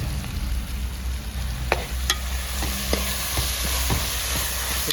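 Curry leaves sizzle as they are stirred into squid roast frying in a pan, with a steady close frying hiss and scattered scraping clicks from the spoon throughout.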